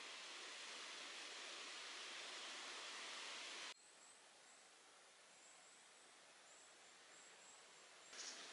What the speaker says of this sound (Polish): W pobliżu chatki płynie malutki strumyk.